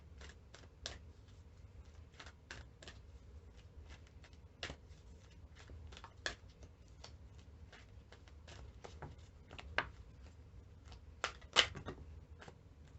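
Soft intermittent clicks and flicks of cards being shuffled, quiet and close, irregular taps over a low background hum.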